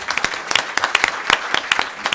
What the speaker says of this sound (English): I'd like to invite you to join me in applauding Professor Monti for his very nice hour with us.